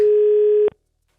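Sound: telephone dial tone after picking up the receiver

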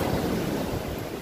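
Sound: sea waves on Poctoy White Beach, Marinduque

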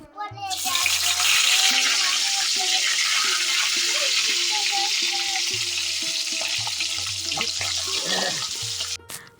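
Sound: two fish frying in a pan

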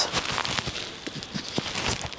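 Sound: rain falling outside

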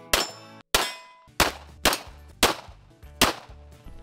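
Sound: gunshots from a SIG 1911 Ace pistol at a range

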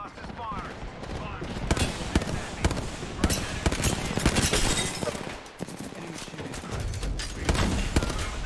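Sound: Fuse's knuckle cluster firing in Apex Legends video game

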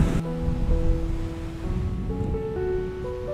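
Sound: sea waves at a beachfront hotel in Rayong

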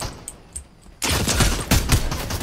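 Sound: gunfire from video game Fortnite

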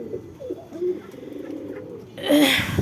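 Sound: pet pigeons cooing

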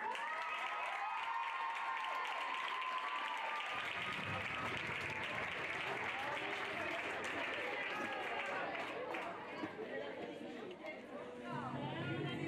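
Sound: audience applause at a dressage prize ceremony

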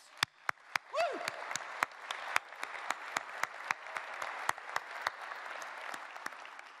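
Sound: audience applause for CES exhibitors

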